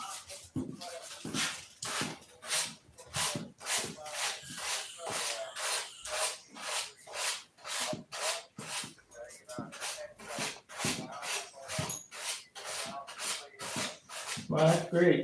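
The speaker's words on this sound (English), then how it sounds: "we're just sanding, painting and sanding" Wood is sanded by hand with a loud, rhythmic rasping, back-and-forth strokes repeating roughly every half second in a steady, close, continuous pattern.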